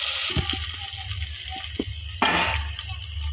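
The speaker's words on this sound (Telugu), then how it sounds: "ఇప్పుడైతే నీళ్ళు పోసేస్తా" Water poured into a pot over ginger-garlic paste and spices for bagara rice, arriving as a short gushing splash after a few soft knocks, close and fairly loud.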